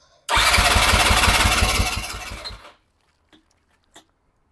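A motorcycle-type engine starts after a lithium jump starter boost and runs loudly with pulsing throttle for about two seconds, then dies away, leaving silence with a couple of faint clicks.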